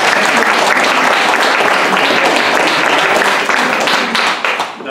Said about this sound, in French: Bon, allez, on peut applaudir ce travail.